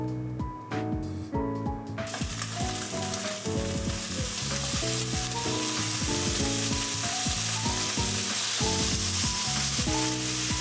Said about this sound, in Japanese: まずは皮面を下にして焼き色がつくまで焼く